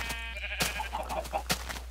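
Sheep bleating in a farming video game, several short bleats spaced through two seconds over a steady low hum, fairly close and alone without talk.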